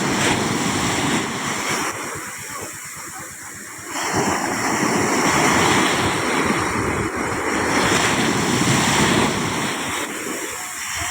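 Ocean waves roll in one after another against small fishing boats in rough sea, a loud continuous surging roar with heavy wind buffeting the microphone and no voices.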